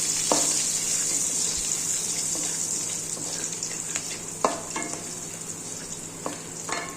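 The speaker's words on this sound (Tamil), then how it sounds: "நறுக்கி வச்சுருக்க கருவேப்பிள்ளையை இதோட சேர்த்து பொரிச்சிக்கிறேன்" Steady oil sizzle of cumin and curry leaves frying, with occasional scraping stirs and light clinks over the constant hiss.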